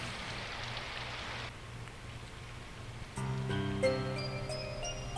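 Steady rain falls in the video game Symphonic Rain, a soft continuous hiss for the first stretch that thins out, then gentle piano-like musical tones enter and play over the remaining patter.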